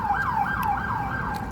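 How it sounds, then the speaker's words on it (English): Emergency vehicle siren wailing in a city street, a steady rising and falling sweep repeating several times over constant traffic noise, fairly loud and close. "Sirens everywhere."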